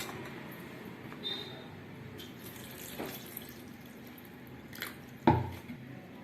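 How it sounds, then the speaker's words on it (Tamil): Water pours softly and steadily into a bowl of tamarind, with a few small clinks and a brief splash near the end. "புளியில் தண்ணி விட்டாச்சு"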